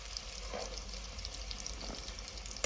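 Turnips frying in oil in a home kitchen pan, giving a soft, even sizzle with light crackle and a faint low hum beneath, no one speaking.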